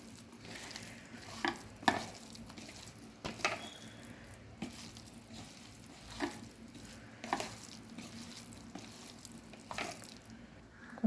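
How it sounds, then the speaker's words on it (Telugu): Mill maker pakodi pieces fry in oil over a medium flame, giving a soft, continuous sizzle punctuated by scattered light clicks and pops from stirring. "ఒక్కొక్కటి ఆయిల్లో వేసుకున్నానండి. మీడియం ఫ్లేమ్లో దీన్ని బాయిల్ చేసుకోవాలండి."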